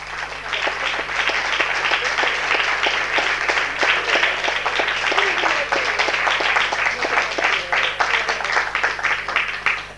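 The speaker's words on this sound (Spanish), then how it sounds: "ya lo recibimos con el aplauso que ellos se han sabido ganar" Dense, even applause from a live audience for a musical trio at a tango show, continuous and fairly close throughout, with a faint steady hum underneath.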